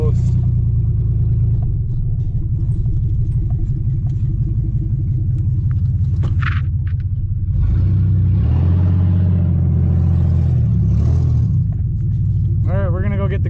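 The engine of a Chevy truck with a failing, nearly gone transmission runs with a deep rumble and uneven revving, close and loud, with a voice speaking over it.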